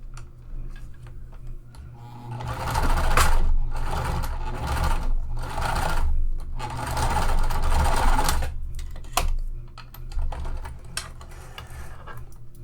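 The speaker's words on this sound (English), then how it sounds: "I'm going to stitch a line right here as close to the slider as possible" A sewing machine stitches a seam on a handbag near the zipper slider in bursts of rapid mechanical chatter, running and pausing several times, close and fairly loud with no talking.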